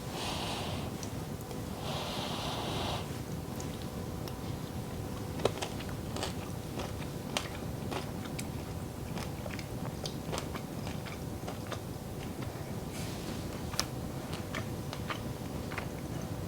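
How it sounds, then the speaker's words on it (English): Crunching and chewing while taste-testing a hot dish of cooked plums, heard as close, repeated mouth clicks and crunches over a steady low background hum. "Sorry about the crunching, I've got my microphone on still."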